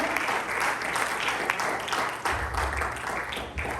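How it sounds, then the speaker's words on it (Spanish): A church congregation applauds at a worship service, a steady wash of many hands clapping throughout that swells slightly near the middle, with no talk over it. "Denle un aplauso al Señor."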